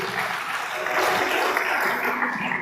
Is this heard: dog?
no